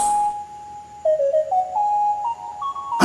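Electronic mobile phone ringtone, a pure tone that steps through a rising series of short notes, clear and alone, cut off abruptly by a burst of noise at the end.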